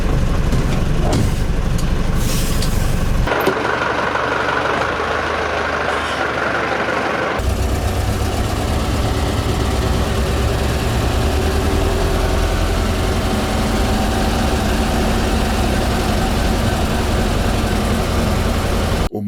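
A TAM 5000 DVc military truck engine, old Slovenian-built, runs steadily for nearly twenty seconds, a loud continuous low rumble with a sudden change in tone partway through and no talk over it.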